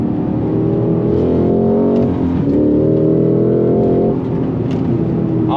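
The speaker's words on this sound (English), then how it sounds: "On those brakes, nice downshift." A 2025 Cadillac CT5-V Blackwing Precision engine drops through gears under hard braking, its loud, close roar stepping in pitch with each downshift.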